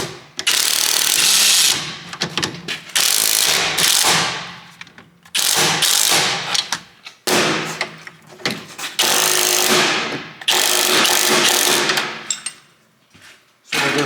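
Ratchet with a 17 mm socket working on a Volvo S40/V50 car suspension at the stabilizer link, heard as loud, bursty metallic clatter and repeated thuds in several long bouts separated by short pauses, with no talk.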